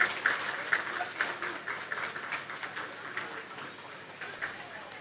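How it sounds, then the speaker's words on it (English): Audience applause at the commissioning of a cardiac catheterization centre in Ghana, a crowd clapping steadily and fading slightly, with some voices mixed in underneath. "Another round of applause."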